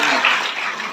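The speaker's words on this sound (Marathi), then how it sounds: "जे काकडा घेतात त्यांच्यासाठी एकदा जोरदार टाळ्या वाजवा" A brief, dense burst of crowd hand-clapping fills the space at a gathering, loud and steady for about a second.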